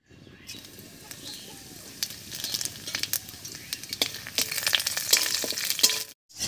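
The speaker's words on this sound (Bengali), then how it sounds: "তেলের মধ্যে দেবো হাফ চামচ গোটা জিরা আর দুটো তেজপাতা।" Whole cumin seeds and two bay leaves sizzle in hot mustard oil in a wok, a crackling fry that grows louder and busier, dotted with sharp pops and light stirring clicks, before cutting off abruptly.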